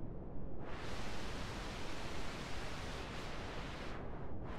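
Filtered noise from SuperCollider with a mouse-controlled cutoff clipped between 500 and 5000 Hz, a steady loud hiss whose brightness shifts, dipping darker briefly near the start and twice near the end.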